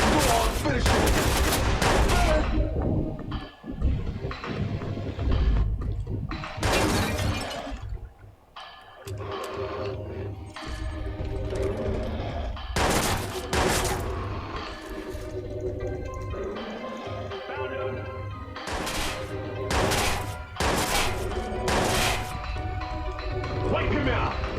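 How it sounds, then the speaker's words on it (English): Gunfire in the Watch Dogs video game: loud bursts of shots and rapid automatic fire crash in repeated volleys, with game characters shouting over the fighting. "Incoming fire!"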